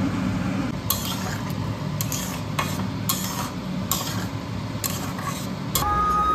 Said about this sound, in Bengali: এবার এটাই আমি এই গরম তেলে মানে গোটা গরম মশলা দেওয়া আছে, এটা দেবো, দিয়ে কিছুক্ষণ নাড়বো।